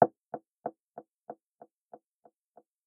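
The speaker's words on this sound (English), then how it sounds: "it sounds like someone knocking on a door or something" A synthesized door-knock, built as a snare-like hit in Serum with ping pong delay, taps once and then repeats about nine times at a steady pace, each echo quieter until it nearly fades out.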